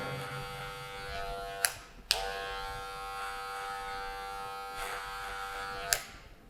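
Electric hair clipper with a guard comb attached buzzing steadily through a barber's taper fade haircut, a continuous close hum broken by a few brief clicks and pauses.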